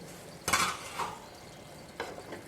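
A spoon stirs amaranth greens with salt and chilli powder in a pan, making a few scraping sweeps against the metal with a faint sizzle beneath and no speech.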